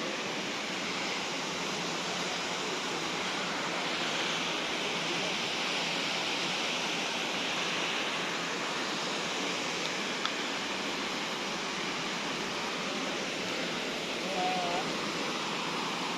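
Steady flowing water along a small roadside spot, a continuous broad rush that stays even and fairly close throughout, with no voices over it.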